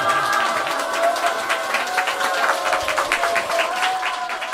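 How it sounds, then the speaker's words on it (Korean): Warm audience applause fills a Korean lecture hall, steady dense clapping from a large crowd sustained throughout at close range, with some faint tonal sound or voices blended underneath. "다시 한번 뜨거운 감사의 박수 올려주십시오."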